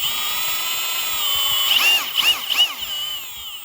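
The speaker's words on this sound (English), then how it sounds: "just tip it down just a hair, and then we drill in." A power drill whines steadily, then its pitch wavers and surges in a few bursts as it bites into a maple tree's wood to tap it for syrup, close by.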